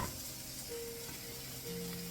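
Meat sizzling steadily in a hot pan, a constant crackling hiss with faint tonal hums underneath, no talking.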